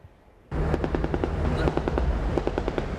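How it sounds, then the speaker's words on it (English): Rapid bursts of celebratory gunfire crackle in quick irregular volleys in Libyan streets, sharp and loud, starting suddenly after a moment of quiet. "Celebratory gunfire"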